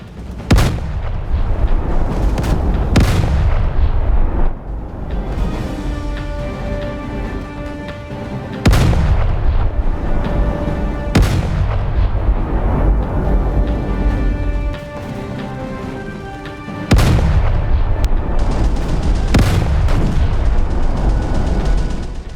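Heavy warship guns fire at a USS Wyoming battleship in the Roblox game Naval 1945, with about eight loud booming salvos spaced a few seconds apart and rumbling echoes trailing between the shots.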